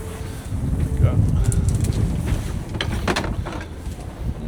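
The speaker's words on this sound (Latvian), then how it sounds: "Var dzirdēt vai nevar, bet pūš diezgan." Strong wind buffets the microphone while fishing off a boat near Ålesund, a rough, gusty rumble with passing splashes and creaks, and someone talks briefly under it.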